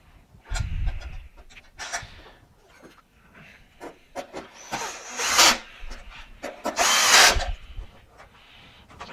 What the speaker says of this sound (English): So we're just literally going to start putting screws in here.